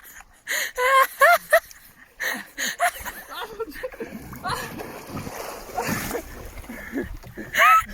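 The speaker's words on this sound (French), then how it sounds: "une vidéo très drôle de Loïc, en train de tester la flottabilité du radeau" Water splashes as a homemade raft's buoyancy is tested, with sharp bursts of splashing mixed with gasps and laughter from people nearby, loud and close.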